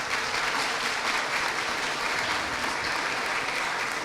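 Sustained applause from a seated audience at a law lecture, a dense even wash of clapping hands that holds steady without voices.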